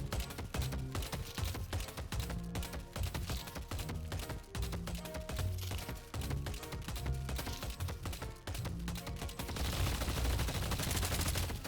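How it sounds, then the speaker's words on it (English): Tesla Bullets weapon effect from the hero shooter Deadlock, a loud, continuous run of rapid, evenly spaced shots that grows denser and hissier near the end, with no talking. "Tesla Bullets was also given a new sound"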